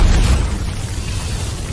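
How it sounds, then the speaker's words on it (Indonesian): A magical energy blast from a gate technique erupts as a loud, rumbling boom, strongest at the start and then holding a dense, roaring wash for over a second with no voices. "ia pun segera melepaskan ledakan energi dari teknik gerbang ajaibnya agar bisa segera mengakhiri pertempuran"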